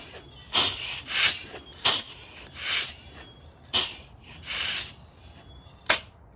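Bursts of air hiss from a rotary engine during a chuff test on a Locost 7 kit car, coming in irregular puffs of rushing breath-like noise, close and fairly loud, with quiet gaps between.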